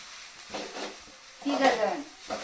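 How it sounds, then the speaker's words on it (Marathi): Khichdi stirred in a pot after peanut powder goes in, soft scraping strokes over a light sizzle, with someone speaking over the cooking. "कूट टाकल्यानंतर परत अशी मिक्स करायचं"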